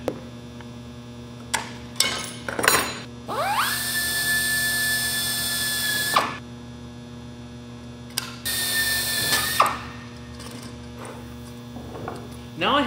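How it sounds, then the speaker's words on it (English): A small high-pitched drill spins up and whines in two short bursts, drilling holes in aircraft sheet metal ribs, over a constant electrical hum, with clicks and taps between. "I'm going to drill my first hole"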